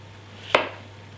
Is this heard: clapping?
no